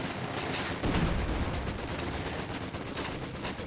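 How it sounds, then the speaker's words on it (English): Dense, sustained rattle of a Vickers machine gun in the Company of Heroes 2 strategy game, a continuous chattering burst of rapid shots mixed with battlefield din, fairly quiet and unbroken throughout. "My good old Vickers will just shred these guys."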